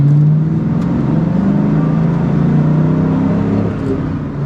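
Ford Mustang Cobra engine pulling hard under acceleration, a loud continuous droning growl with rising harmonics heard from inside the car, steady throughout with no talking.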